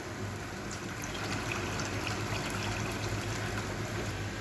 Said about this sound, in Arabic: وازوده شويه ميه كمان.